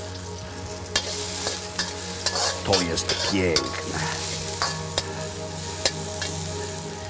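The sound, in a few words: frying garlic in a pan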